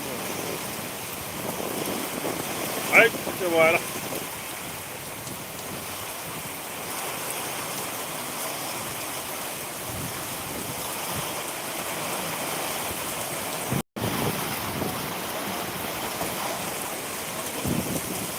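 Heavy rain pours down in strong wind, a continuous broadband roar of downpour and gusts, loud and steady throughout, with a brief dropout near the end.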